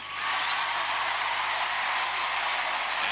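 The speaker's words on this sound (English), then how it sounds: "Andrea accepts the applause of her family" Sustained studio audience applause and cheering at the UK Gladiators 1996 Southern Final game show, a dense steady roar of clapping holding at full level throughout with no voices over it.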